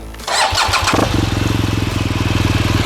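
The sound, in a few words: BMW R 1200 GS Adventure motorcycle engine starting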